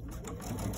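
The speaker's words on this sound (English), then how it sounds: "I'm gonna go ahead and sew those right sides together using the 1/4 inch seam" A sewing machine runs a quarter-inch seam joining a Kimberbell Love Notes quilt block with right sides together, a brief, close, continuous whirring stitch.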